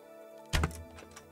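In the Kingdom Come: Deliverance video game, a practice bow shot strikes a target with a single sharp thunk midway through, followed by a short fading tail over a quiet background.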